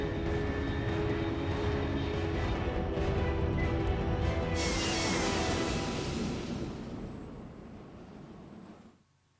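A fast aircraft in Metal Gear Solid 3, flying at Mach 3, roars loudly and steadily with a bright rushing burst midway, then fades out as it passes.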